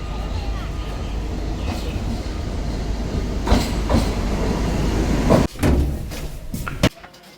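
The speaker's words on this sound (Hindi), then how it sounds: "फाइनली हमारी ट्रेन आने वाली है" A train pulling into a station, a steady loud rumble with rattling railcar clatter and sharp metallic clanks near the end, while people talk nearby.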